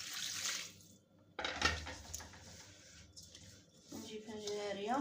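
Water is poured into a pot of barley or corn semolina porridge, a splashing rush beginning sharply and continuing close, with dish and utensil clatter and faint talk in the background.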